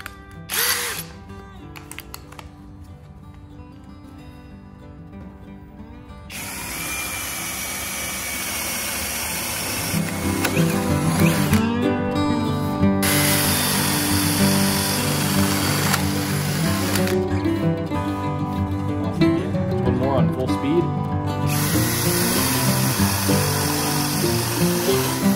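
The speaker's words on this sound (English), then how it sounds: "we got 6 holes drilled with this and still showing 2 as that 7/8 paddle bit" A SKIL PWRCore 20V cordless drill turns a 7/8-inch paddle bit through wood, starting with a short free-spinning whine and short pauses, then a long sustained whirring grind as the bit cuts, with brief breaks in between, close and loud.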